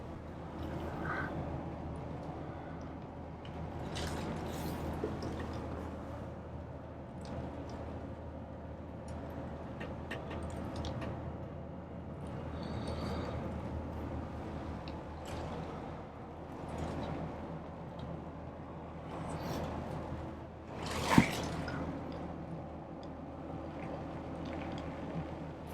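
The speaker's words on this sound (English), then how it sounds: "That is actual sleet. It's coming down pretty good." Sleet pours down on a semi truck, a dense steady pattering and drumming on the cab and windshield with sharper ticks scattered through, heard from inside.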